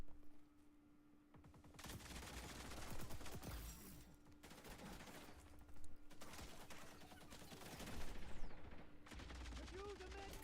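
Rapid bursts of gunfire from a gun in the shooter game XDefiant, continuous crackling volleys with short pauses, loud and near, with a voice talking over parts of it.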